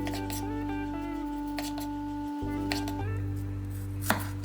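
Knife cutting fresh ginger in half on a board for ginger broth or tea: a few spaced, crisp chops over a steady background hum.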